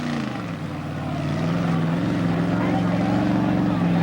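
A Ford-powered Ford mud bog truck with a 302 engine roars at full throttle, a loud steady drone with rising pitch as it launches, alongside a commentator's voice at a 1995 Plymouth mud bog event.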